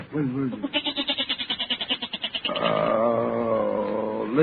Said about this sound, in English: listen to that goat peg